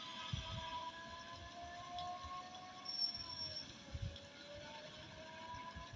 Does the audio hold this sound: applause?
no